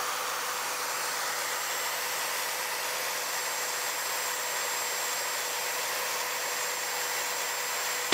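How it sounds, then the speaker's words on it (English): A circular saw powered by a portable battery power station drones with a steady, continuous motor whine, unchanged for several seconds, loud and close, with no cutting bursts or voices. "Let's hit the skill saw and see what happens."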